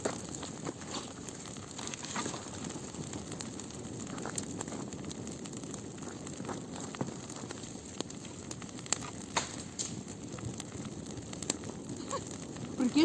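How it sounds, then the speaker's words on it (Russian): A large outdoor bonfire of branches burns with scattered sharp crackles and pops over a soft, steady hiss, close by and fairly quiet, without talking. "я костром занимаюсь."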